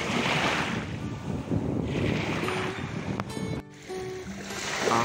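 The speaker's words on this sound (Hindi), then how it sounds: "लहरों की आवाज सुन रहे हैं आप?" Sea waves washing ashore at Al Bateen Beach in Abu Dhabi, a continuous broad surf wash with gusty wind buffeting the microphone and a few brief clicks and tones near the end.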